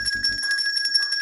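A small handbell with a handle is shaken, giving bright metallic jingles that start with a few quick rattling strikes and then ring on steadily, close and fairly loud.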